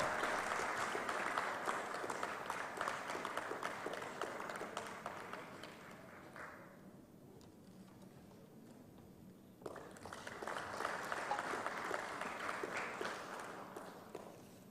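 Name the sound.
audience applause for the session judges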